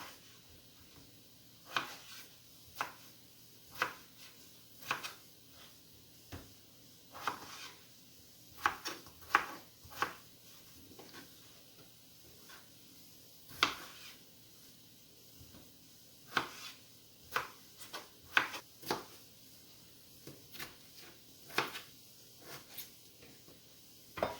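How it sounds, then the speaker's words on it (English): Peeled potatoes chopped with a knife on a board, producing a long series of soft, dull thuds in irregular bursts, close and fairly quiet, with no talking. "the potatoes are peeled and washed, so I'm just going to chop them up"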